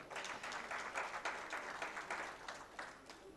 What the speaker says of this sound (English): Yeah, we can have a round of applause for that.